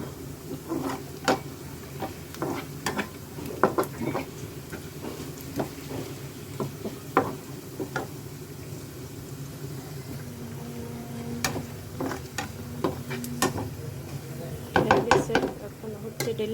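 Cumin seeds and oil meet hot vegetables in a pan, giving a low steady sizzle under repeated sharp clinks and scrapes of a utensil stirring against the pan, close up and without talk.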